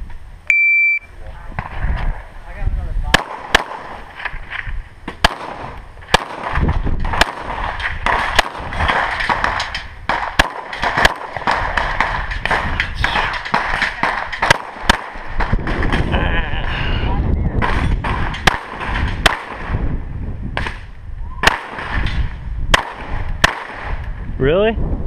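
A 3-gun shooting competition stage, with a string of sharp, loud gunshots cracking out at irregular intervals near the shooter, some in quick bursts, over steady background noise and occasional talk.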